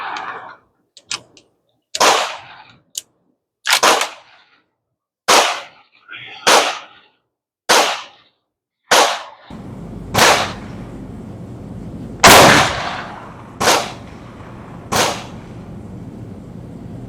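Mauser Model 71 rifle fired outdoors at a target range, about a dozen sharp gunshots spaced a second or so apart, each cracking loudly with a short decaying echo, the later ones over a steady background hum.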